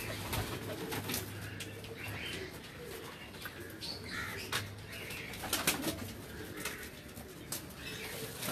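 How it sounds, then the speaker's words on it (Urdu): Breeder pigeons coo softly on a rooftop, a low steady murmur of several birds under faint chirps and occasional wing flutters, with a low hum running throughout. "ان کے جوڑوں والے کبوتروں کا شوق کرواتے ہیں"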